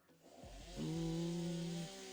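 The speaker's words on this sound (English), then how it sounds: "Pretty sure we're gonna use the saw for this." A chainsaw in the underwater game Deepest Trench revs up from short sputters into a sustained buzzing drone, then drops back, heard alone at a quiet level.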